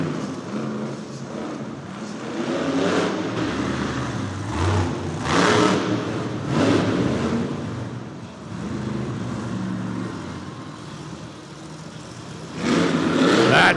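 A Monster Jam monster truck, Monster Mutt Rottweiler, revs its engine at the starting line of a racing event in Edmonton, a loud, sustained mid-pitched roar that swells and surges in waves with arena ambience.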